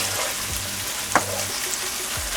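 Tater tot hot dish ingredients seasoned with Worcestershire sauce, salt and pepper are mixed in a pan, a steady close sizzle with a single sharp scrape of the utensil and faint low rumbles, no talking.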